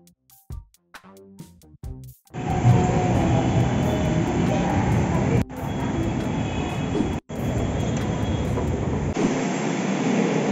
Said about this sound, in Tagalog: dito na tayo sa LRT2 at pasakay na tayo ng train papuntang papuntang Cubao